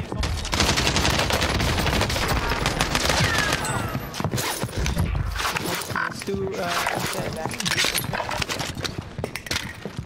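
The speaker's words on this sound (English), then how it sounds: "He's shooting on left" Heavy bursts of automatic gunfire and rapid shots fill a Call of Duty Warzone battle, loud and nearly continuous with brief gaps, while players talk over the shooting.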